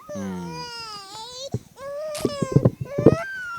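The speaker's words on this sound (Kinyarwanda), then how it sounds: "Reka dusoze umwana yarize" A young child cries close by in drawn-out wails that break into sobbing, choppy bursts toward the end.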